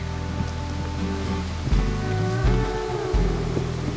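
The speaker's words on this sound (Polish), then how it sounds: "idziemy wzdłuż tej rzeki, która jest w większości wodospadami" A river flowing over a chain of small and larger waterfalls along a mountain trail in Romania, heard as a steady, loud rushing of water with deep surges and no talk.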